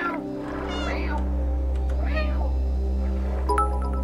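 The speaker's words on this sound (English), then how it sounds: "let's just stare at the cat for a little bit" A cat meows twice with drawn-out, wavering calls and then gives a short chirp, heard close over a steady low hum with faint talk in the background.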